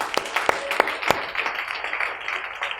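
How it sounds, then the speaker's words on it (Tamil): Church congregation applauding during a Sunday sermon, a short burst of scattered hand claps with a few sharp louder claps, moderately near. "புரிஞ்சா இப்போ கைத்தட்டல் கொடுக்கலாமா?"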